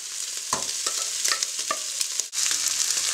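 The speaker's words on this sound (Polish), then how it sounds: "I mieszam wszystko razem" Basmati rice is stirred into meat frying in a pan, giving a continuous close sizzle broken by repeated scraping and stirring strokes, with no speech.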